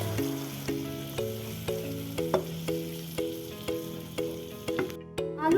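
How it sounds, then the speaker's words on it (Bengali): Fried potatoes and spices with a cup of hot water cook and are stirred in a pan, making a soft sizzle and occasional scrapes under steady, rhythmic background music. "এবার আলু আর মশলাটাকে ভালো করে কষিয়ে নেব।"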